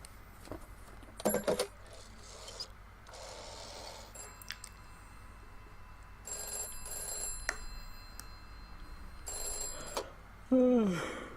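A telephone rings in bursts in This Is The Police, the bell pattern repeating between quieter stretches with a few mechanical clicks and a short sliding tone at the close.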